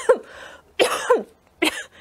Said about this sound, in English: Yes, I have a cough.